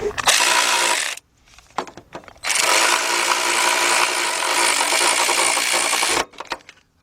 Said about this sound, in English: So I'm using my big bill ratchet, deep 14 millimeter.